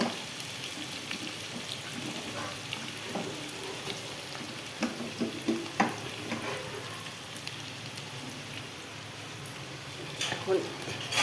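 Chopped onion, tomato and green chilli fry in a pan with a soft, steady sizzle and occasional stirring clicks, while someone talks over it.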